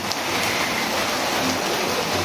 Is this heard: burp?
no